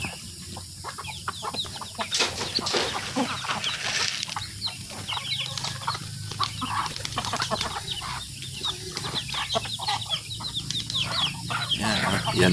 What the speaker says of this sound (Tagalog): Yan po ang ating mga alagang manok.